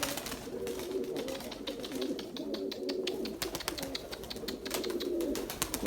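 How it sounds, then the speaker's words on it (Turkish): Pet pigeons coo in soft, rolling phrases that repeat over several seconds, mixed with brisk tapping and clicking from the birds moving around nearby. "Sadece güvercinlerimiz var işte arkadaşlar."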